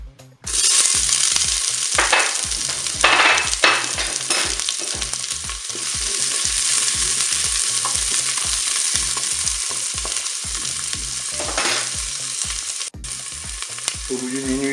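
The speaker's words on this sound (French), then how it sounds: "l'huile est chaude, je vais pouvoir mettre mes oignons" Onions hit hot oil in a Cookeo multicooker and fry with a loud, steady sizzle that begins abruptly and holds for about fourteen seconds, with occasional stirring noises.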